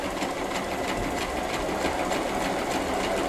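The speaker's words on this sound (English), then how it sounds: "push this little lever down over here so that we're winding a bobbin as we sew" A sewing machine stitches steadily while its bobbin winder runs at the same time, a loud, close, continuous mechanical whir with a fast even rhythmic chatter and no voices.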